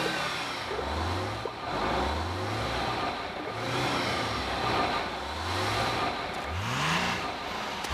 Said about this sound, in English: a bus shows up.